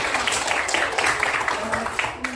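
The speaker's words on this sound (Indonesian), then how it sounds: "Kasih tepuk tangan untuk Rina" Classroom pupils applauding a student named Rina after she answers, a scattered patter of clapping from a small group mixed with children's voices.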